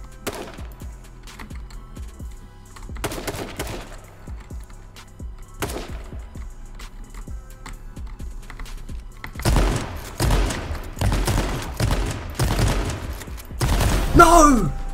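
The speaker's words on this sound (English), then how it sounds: "Hit with a hunter rifle." Hunting rifle shots in the battle royale game H1Z1 crack out as scattered sharp reports amid thuds and a flurry of rapid fire toward the end, fairly close and punchy.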